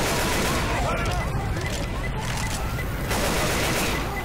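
Chaotic gunfire and explosive bursts from a Left 4 Dead 2 zombie battle on the Dark Carnival campaign, a thrown bomb among the dense, continuous combat noise, with voices talking over it.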